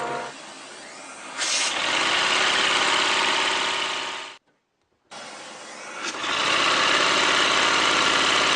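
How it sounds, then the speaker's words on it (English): A small air-powered engine runs on air pumped by a second air engine, a steady loud mechanical whir that cuts out briefly midway and then resumes at the same level. "here I'm actually using the air engine to pump air to power the other air engine"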